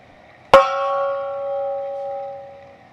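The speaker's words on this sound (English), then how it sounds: "That is the touchdown gong that I normally do." A touchdown gong for a Rams game is struck once, giving a sharp metallic strike followed by a long, clear ringing tone that slowly fades over a couple of seconds.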